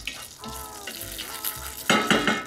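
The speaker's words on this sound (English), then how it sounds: "Give it a quick stir." Olive oil and salt stirred in a hot pan before zucchini spirals go in, a brief crackling sizzle with metallic scrapes that grows louder in the last half second.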